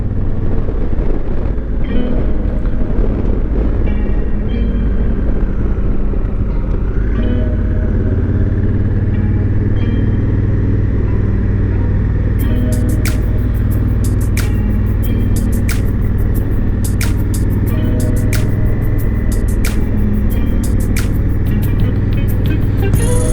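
A car driving out of town on the road, a loud steady engine drone with low rumbling road noise throughout and a faint rattling tick creeping in over the second half.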